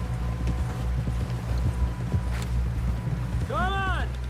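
A horse's hooves clip-clop steadily in Red Dead Redemption 2, a running rhythm over low wind and ambient rumble, with a brief rising-and-falling tonal call near the end.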